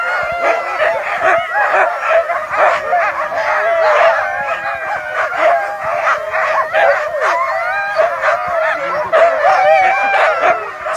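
A pack of eager sled dogs awaiting the start of a race at Chasseradès keeps up loud, continuous barking, yelping and howling, many voices overlapping near and far.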